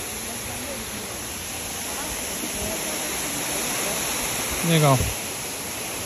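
A small waterfall at a lagoon gives a constant, broad wash of falling water, with a person speaking briefly over it near the end.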